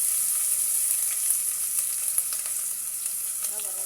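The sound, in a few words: onion frying in hot oil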